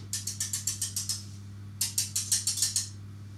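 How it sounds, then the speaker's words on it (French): A metal whisk beats cookie dough made with flour in a bowl, giving two bursts of quick rhythmic scraping strokes, about seven or eight each, with a short pause between, close and fairly clear over a low steady hum. "avec mon fouet métallique pour faire une bonne pâte"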